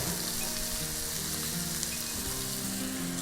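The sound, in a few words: onion and fish sautéing in a frying pan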